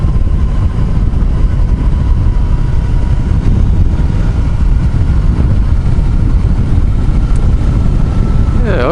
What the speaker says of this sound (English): overall it's quite a charming little motorcycle to ride.